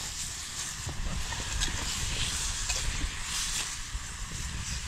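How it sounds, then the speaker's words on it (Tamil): Green chilies sautéing in a hot pan for an egg paniyaram gravy, a steady close sizzle and hiss running throughout with faint stirring scrapes beneath. "இதையும் நல்லா கிண்டி வதக்கிக்குவோம்."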